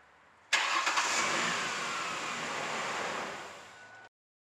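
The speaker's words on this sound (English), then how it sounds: "In this case, we crank the engine." A car engine cranks on its starter motor for about three and a half seconds, a steady loud churning whir that begins abruptly and cuts off sharply, heard alone with no voices.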